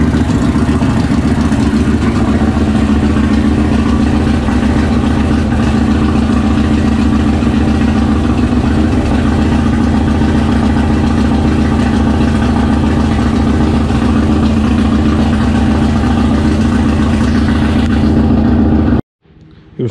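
A Kawasaki Vulcan 1500 motorcycle engine running after a timing chain replacement, a loud, steady, close rumble that holds for the whole stretch and then cuts off abruptly near the end.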